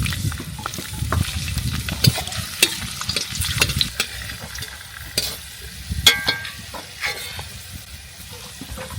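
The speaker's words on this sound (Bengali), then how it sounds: "আলু ভর্তার জন্য তেলটা গরম হয়ে গেছে, কয়েকটা রসুন দিয়ে দিলাম, তারপর শুকনো মরিচ" Garlic and dried chillies fry in hot oil for a Bengali potato mash on a village clay stove, a crackling sizzle broken by sharp clicks and scrapes of stirring, close and fairly loud.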